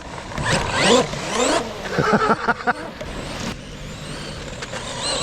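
A brushless RC buggy motor whines at about quarter throttle, with sweeping pitch bursts and rattling chassis noise that fade to a lower hum, mixed with some outdoor background sound.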